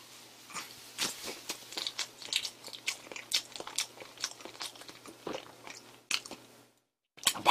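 Close-up mouth sounds of someone biting and chewing a Paris Baguette pure-milk strawberry cake with jelly-like strawberry jam filling: moist, squishy chews and small crunches in an irregular rhythm, ending in a short silence.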